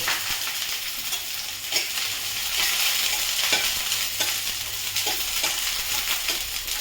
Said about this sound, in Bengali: তেলটা গরম হয়ে গেছে, এবার আমি বেগুনটাকে ভেজে তুলে নেব